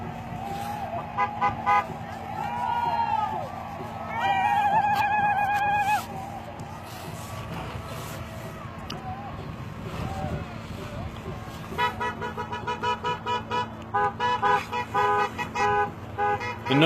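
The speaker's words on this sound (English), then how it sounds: "The noise you hear is people going back in cars for medical and trying to clear the road" Car horns honking on a crowded road near a protest camp, several horns sounding in short bursts and longer blasts at moderate distance, under engine rumble and people talking.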